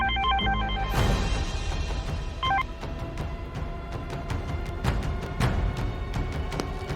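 A telephone rings in a television drama scene, a repeated electronic ring tone at the start, followed by a handset clatter and soft clicks as the room noise carries on without speech.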